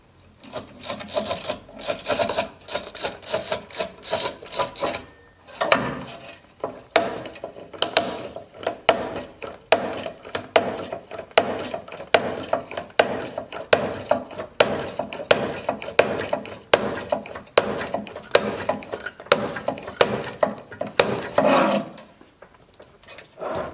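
A Montolit Masterpiuma manual tile cutter scores a tile with a fast rasping scrape, then gives a long run of sharp, evenly spaced clicks and ratcheting taps, close and clear with no voices.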